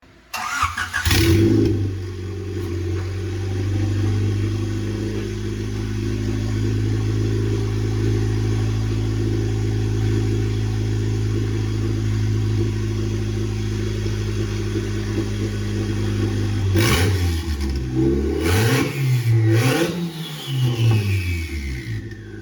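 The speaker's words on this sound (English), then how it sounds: "Ours is ready to go, so we're just going to go ahead and start it up." A turbocharged Honda Civic engine cranks and catches, then settles into a steady, loud idle for a long stretch before several sharp revs rise and fall near the end.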